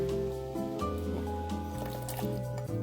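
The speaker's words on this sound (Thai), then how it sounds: "เนี่ยเขากำลังสูบน้ำมาแล้วนะคะ" An espresso-style coffee machine pumps water to brew green tea, producing a close, buzzing hum that shifts pitch in steps, with wet gurgling and dripping over it.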